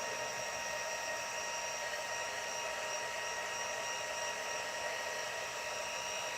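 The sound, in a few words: heat gun on second setting heat embossing a stamp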